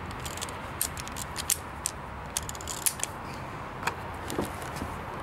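An old Mauser-style WW1-era European pistol has its bolt worked with a stripper clip, giving sharp metallic clicks and clacks spaced irregularly over a low background hiss, close but moderately quiet.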